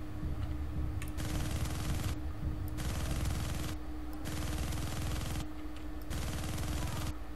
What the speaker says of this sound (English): Should I shoot at him with my machine guns?